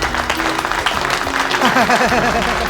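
Steady applause from a crowd in a Bhojpuri film scene, dense clapping running the whole time with voices and tonal sounds layered over it.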